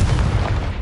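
A short, heavy boom from a Confringo blasting spell in Hogwarts Legacy hits loud and low, then rumbles off quickly.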